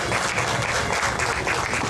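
Steady applause from a crowd at an agro-industrial fair opening in Tetelo Vargas Stadium, San Pedro de Macorís, dense continuous clapping at fairly close range, with no voices standing out.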